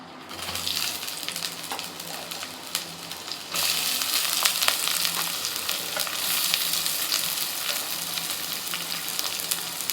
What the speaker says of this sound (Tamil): வெங்காயம் போட்டுக்கேன்